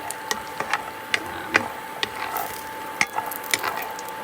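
Food tossed in a hot pan turned up high, browning with a steady soft sizzle broken by light, regular clicks and taps as it is stirred and flipped, close and fairly quiet.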